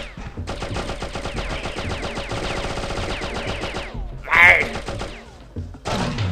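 Rapid automatic gunfire from a Slig's gun in the video game Oddworld: Abe's Exoddus, a dense sustained burst of close, loud shots lasting several seconds, followed by a sharp whoosh and a few scattered thuds.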